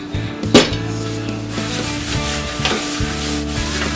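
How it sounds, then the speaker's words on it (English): Olive oil is spread around a pizza pan with a brisk rubbing scrape that opens on a sharp knock and then continues as a steady close swishing and a low hum. No one speaks. "Now we're going to take some of this olive oil. We've got to oil this pan up."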